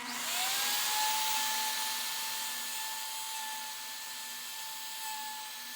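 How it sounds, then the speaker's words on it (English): A Porter Cable router cutting a dovetail joint in a jig spins up with a rising whine, then holds a steady, loud, high-pitched hum on its own. "we can just run the router through again. It should cut deeper this time"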